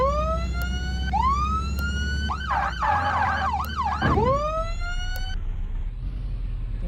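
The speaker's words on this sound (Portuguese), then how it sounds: "Os carros meio que tentam desviar quando está com a sirene ligada." Wailing video game police siren sweeping up and down repeatedly with a quick yelp phase in the middle, loud over a steady engine rumble, then cutting off.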